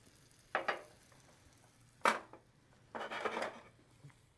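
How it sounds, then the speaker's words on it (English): Wine splashed into a hot pan held off the flame gives a few short, fairly quiet sizzling bursts, with one longer hiss near the end, over an otherwise still kitchen. "now we're going to add our wine away from the flame"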